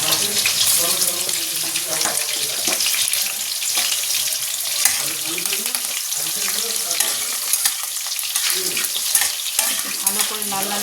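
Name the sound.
garlic, chili and black cumin frying in hot oil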